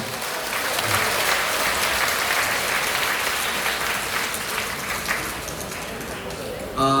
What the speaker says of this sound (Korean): 이럴 때는 박수 한번 하셔야 됩니다.